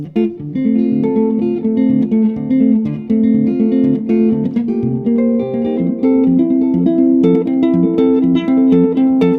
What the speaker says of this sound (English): So Travis picking basically sounds kind of like this.